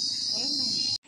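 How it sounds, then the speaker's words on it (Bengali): Crickets chirp in daytime near a fair stall, a continuous bright, shrill trill held steady throughout with a low voice murmuring faintly beneath, then stopping abruptly just before the end. "ঝিঝি পোকার ডাক শোনা যাচ্ছে"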